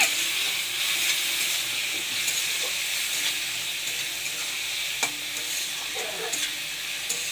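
Spice paste of turmeric and ground cumin sautéing in oil with a splash of water, a loud, continuous hissing sizzle with occasional scrapes of stirring.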